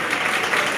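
An audience claps in a hall during a prize-giving, a dense, even wash of many hands that runs steadily through the brief moment, fairly loud and with no voice on top.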